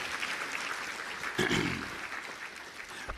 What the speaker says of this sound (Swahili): Piga makofi mengi sana kwa Mheshimiwa Rais tafadhali.